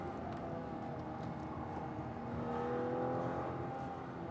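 A 2021 Acura TLX Advance with SH-AWD pulls hard through a canyon road, the engine note rising steadily and swelling louder near the end, heard from inside the car.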